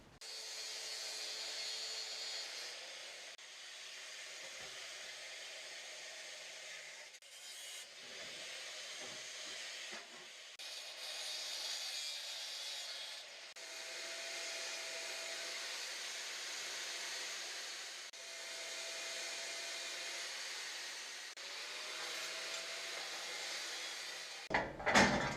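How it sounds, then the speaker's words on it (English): Metal cutting and grinding on a Sport Quattro replica front end, a steady loud high whine and hiss that runs almost without pause for the whole stretch, with brief dips in pitch and level as the tool bites into the metal. "Let me cut this out, grind this"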